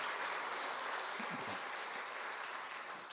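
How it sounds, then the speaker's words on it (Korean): A church congregation at a Sunday service applauds to welcome a visiting missionary and his son, with steady, even clapping from many hands throughout, heard from some distance in a large room. "우리 박수로 크게 환영하겠습니다"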